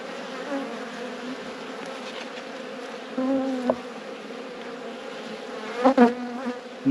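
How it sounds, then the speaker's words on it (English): Honeybees buzz steadily in an open hive during a cold late-season inspection, a close, continuous drone that keeps up throughout with a few louder swells near the end. "Lots of bees home today because it is cold."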